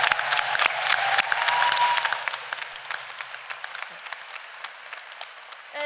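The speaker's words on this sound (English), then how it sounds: "So let's clap." An audience at a feminist conference closing session claps together, loud dense applause at first that thins out into scattered individual claps as it dies away.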